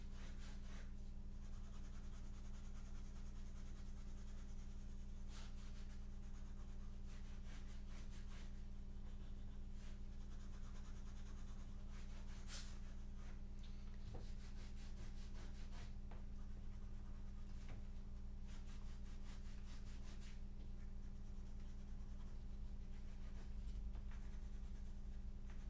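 A pencil scratches quickly across paper during a rapid sketch, with a continuous faint rasping and short bursts of strokes. It sounds close but quiet over a steady low background hum, with no talking.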